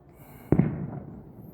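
A single sharp firework bang during a US Independence Day celebration, fairly distant, with a brief rumbling tail fading into quiet.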